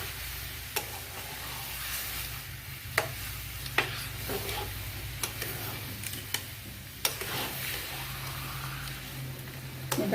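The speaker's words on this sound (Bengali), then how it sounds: "এটাকে বেশ কিছুক্ষণ এভাবে নাড়তে হবে, নেড়ে নেড়ে শুকনো করতে হবে যতক্ষণ না চিনিটা গলে" Raw mango pulp stirred with sugar in a pan, a steady low sizzle under repeated sharp scrapes and taps of the spoon against the pan, close and fairly quiet with no talking.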